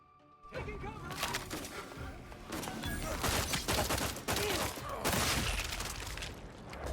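Rifle fire in The Outer Worlds 2 rattles through a dense, loud game mix of rapid shots and impacts, sustained across the clip with little pause.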